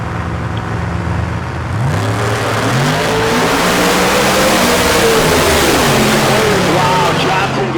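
Pro Mod drag race cars, including a 2018 Chevrolet on nitrous oxide, roar down the strip at a street car event, engines climbing through rising pitch sweeps, loud and sustained, with a commentator speaking over them.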